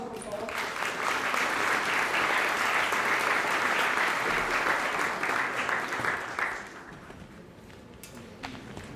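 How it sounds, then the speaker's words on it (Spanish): Sustained audience applause fills a live Colombian broadcast event in Barrancabermeja, dense and steady for about six seconds before fading to a softer patter, with a few scattered claps at the end. "Un aplauso"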